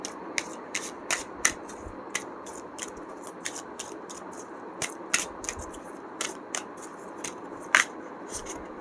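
Crisp, irregular snaps and riffles of tarot cards being shuffled and drawn, close and distinct, with short quiet gaps between the sharp card clicks; no voices.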